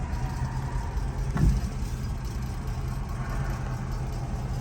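A 1968 Shelby GT350 with a factory-style exhaust and two resonators idles steadily after a cold start, a low, even rumble with one brief louder thump partway through.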